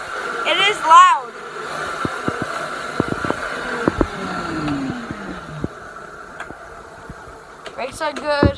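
A dirt bike engine runs after being started, with loud buzzing revs and sharp popping bursts rising and falling unevenly. People talk over it now and then.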